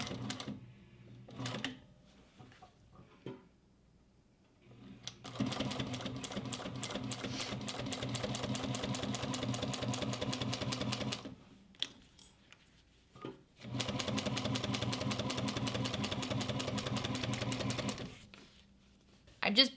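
Heavy-duty sewing machine punching holes through leather without thread, a rapid, even mechanical chatter that runs in two long stretches broken by short pauses, with a voice speaking faintly in the gaps.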